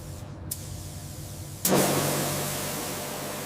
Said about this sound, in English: Laying down the first coat.